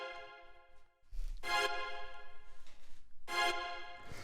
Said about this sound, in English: This is a pretty simple sort of electro stab.